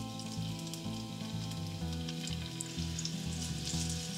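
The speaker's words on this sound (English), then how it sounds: "And now we're going to put in 1/2 the quantity of the prawns into the pan." Prawns sizzle loudly in hot oil in a skillet, a steady dense crackle and spatter running throughout, close and continuous with no talk, for a Goan prawn balchao.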